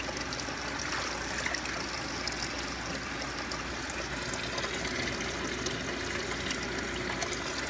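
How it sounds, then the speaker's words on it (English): Water flowing quickly through an aquaponics system, a continuous rushing and bubbling stream heard close up, steady and alone with no talk. "a lot of water is flowing through it very, very quickly"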